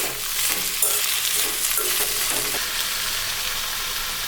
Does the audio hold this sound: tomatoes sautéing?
yes